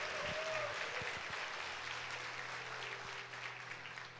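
A church congregation at a Sunday service claps together in praise, a steady, moderately quiet spread of applause with faint tones ringing beneath it.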